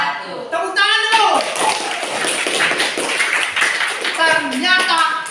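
An audience applauds loudly at a classroom teaching session, steady dense clapping lasting several seconds with a voice and talk mixed in.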